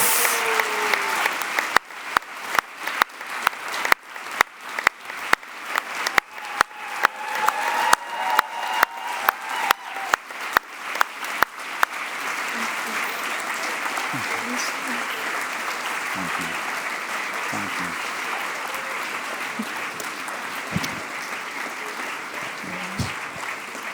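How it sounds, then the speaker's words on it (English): An audience at a speakers' night at the European Forum Alpbach gives sustained applause for nine speakers, beginning with rhythmic synchronized clapping that swells into a continuous dense ovation, with scattered voices underneath. "Please, one last time, a thunderous applause for our 9 speakers."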